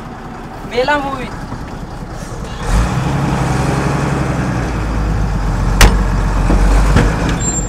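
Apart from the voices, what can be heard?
truck engine running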